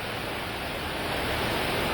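Steady, dense rainfall, loud and close, a continuous broadband wash with no breaks and no voices, as during a monsoon downpour in Seechewal.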